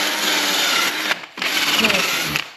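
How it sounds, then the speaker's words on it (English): Welding on a Honda Big Red 250 frame gives a loud, steady crackling hiss that stops briefly after about a second, then resumes and buzzes on close by. "Let's see what happens when I start welding."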